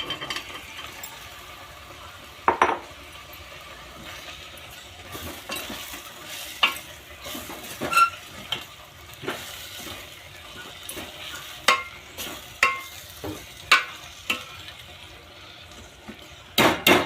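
Cut cluster figs stirred in a pan for a spiced vegetable dish, giving a soft frying sizzle with repeated scraping and clinks of a spoon against the pan at irregular intervals, close and moderate.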